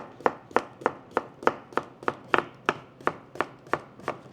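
A knife chopping cucumbers on a cutting board, fourteen crisp, evenly spaced thuds in a steady quick rhythm, close and clear with no talk.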